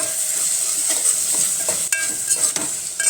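Spices sizzling steadily in hot oil while cabbage-potato curry fries in a pan, a close, constant bright hiss with a few stirring scrapes and clinks and no talk.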